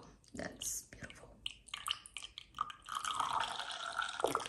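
Micellar water is poured out to mix a homemade makeup brush cleaner, a close trickling and splashing liquid sound that builds toward the end, with a soft voice heard faintly at times.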